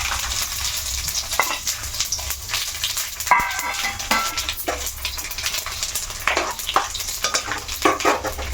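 Chana dal, mustard seeds, cumin and dried chillies crackle loudly in hot oil for a cabbage fry, a dense close sizzle with frequent sharp pops and spattering bursts and occasional utensil clinks.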